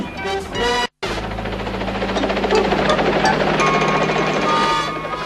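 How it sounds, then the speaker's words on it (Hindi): A cartoon helicopter approaching in a Richie Rich animated episode, heard as a loud, steady rotor drone and engine whir after a brief dropout near the start, with music or effects layered over it. "वो आ गया हेलीकॉप्टर।"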